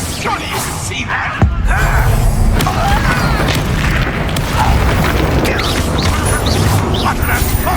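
Spell explosions from Hogwarts Legacy combat on PS5, with a sharp blast near the start followed by continuous loud rumbling booms, crashes and magical effects, while a voice calls out amid the din.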